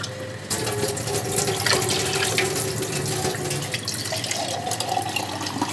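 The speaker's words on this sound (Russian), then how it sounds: "Все, добавляем еще воды." Water is poured and stirred into a pot of Armenian sour-milk soup, apur (spas), making a steady close splashing and swirling sound with faint clinks and no talk.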